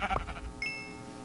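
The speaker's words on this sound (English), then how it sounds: "Sheep! Sheep! Come back here!" A sheep in the video game Minecraft bleats once, a short close wavering cry, with a brief game click just before it and no talk.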